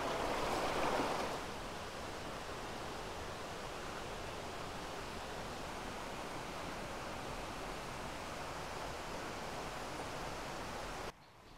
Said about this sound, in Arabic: اكتر حاجه هفتقدها في المكان الجميل ده هو النهر ده